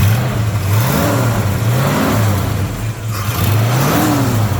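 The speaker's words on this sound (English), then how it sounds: "I wanted to have you hear this engine. Give it a couple revs, Steve." A 1964 Ford Falcon Futura convertible resto-mod engine revs up and falls back about three times, each rev rising sharply in pitch over a steady running hum, close by.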